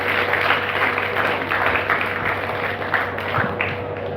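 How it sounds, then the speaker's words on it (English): An audience at a talk applauds, a dense, even wash of many hands clapping at moderate loudness, sustained throughout over a low steady room hum. "Big round of applause for them."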